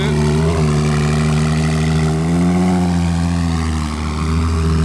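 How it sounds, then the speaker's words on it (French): A sports car engine with an F80-style exhaust runs loud and close, a steady low droning rumble with slight pitch shifts as it idles and revs gently. "Avec le fameux échappement de la F80."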